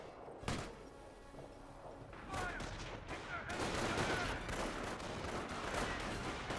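A squad fires from several angles in a Company of Heroes battle: scattered sharp cracks at first, then a continuous, busy mix of rifle and machine-gun fire at moderate distance, with faint talk underneath.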